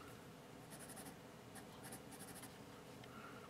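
Arteza Premium HB #2 pencil writing on paper, soft scratchy strokes in short bursts, quiet and close with a faint background hiss.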